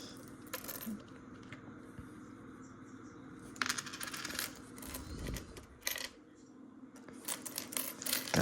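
Pennies from a coin roll are handled and dropped, small metallic clinks and jingles scattered irregularly, close and clear, with brief bursts of several coins at once.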